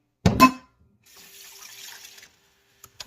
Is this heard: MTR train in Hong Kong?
no